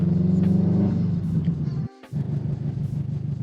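A 2019 Subaru WRX STI with a manual gearbox rumbles steadily while driving, a pulsing engine note that cuts out briefly as if for a gear change, then picks back up at a lower, even pitch, with no talk.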